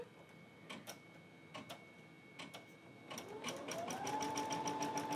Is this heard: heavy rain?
no